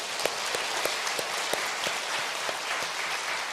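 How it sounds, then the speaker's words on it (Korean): A church congregation at a Sunday worship service gives a round of applause to God, a dense continuous wash of many hands clapping, loud and steady. "사랑하는 동역자 여러분 허락하시면 하나님 앞에 영광의 박수를 올려드릴까요?"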